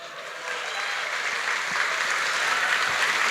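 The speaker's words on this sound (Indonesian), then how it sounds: "Kasih tepuk tangan dulu dong." Audience applause at a talk builds from a quiet start into steady, sustained clapping from many hands, moderately loud and continuous to the end.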